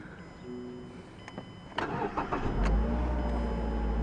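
Car engine starts after a check engine light fault tied to a dirty mass airflow sensor: a few clicks, then a quick cranking burst that catches into a steady low idle rumble nearby.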